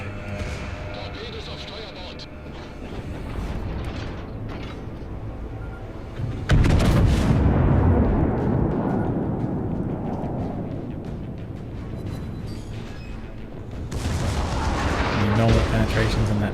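Secondary guns on a German battleship fire in World of Warships, a Großer Kurfürst engaging a Prinz Eugen cruiser: heavy booming blasts with a big onset near the middle, rumbling continuously under a speaking voice.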